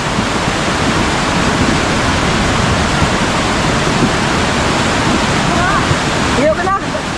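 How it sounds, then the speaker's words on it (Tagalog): Floodwater rushing during heavy rain, a loud steady roar that continues unbroken, with faint voices calling out near the end. "Dali na bang nagkakusog ng tubig?"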